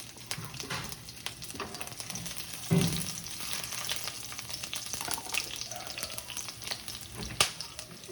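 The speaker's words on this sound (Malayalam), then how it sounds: "ചെറുതായിട്ട് അരിഞ്ഞ ഇഞ്ചി വെളുത്തുള്ളി ഇട്ട് കൊടുക്കണം." Chopped ginger and garlic sizzle and crackle steadily in a hot pan, a close, continuous frying hiss with a few stirring clatters and no talk.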